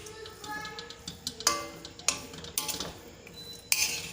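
A spoon clinks and scrapes against a pot while mango rice is mixed off the flame, with several sharp metallic taps and a steady stirring rustle, close and moderately loud, and no talking.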